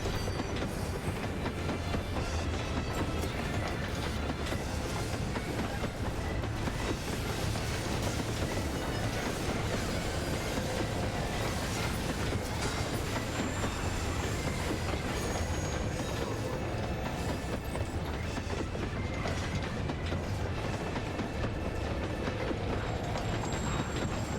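Steady train rumble with a clickety-clack of wheels and some faint squeal, loud and continuous throughout, from the Omega raid in Final Fantasy XIV, with no voices over it.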